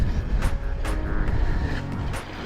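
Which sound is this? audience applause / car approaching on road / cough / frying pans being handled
car approaching on road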